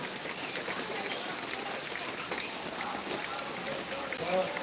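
Heavy rain falls steadily and continuously, a dense broadband hiss of drops hitting surfaces close by with no pauses for the full stretch, a faint swell near the end, and no talking.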